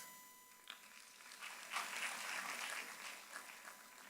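Faint, distant applause from a congregation audience at UHAS, a soft, diffuse patter of many hands that swells briefly and then tapers.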